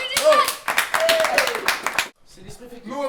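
Audience applause at a student association campaign quiz night: dense, energetic clapping for about two seconds that cuts off abruptly, followed by voices speaking.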